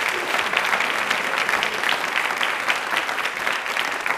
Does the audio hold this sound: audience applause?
yes